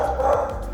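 A dog named Duras gives a short bark or yip in a home, close and fairly loud, with a low rumble in the background.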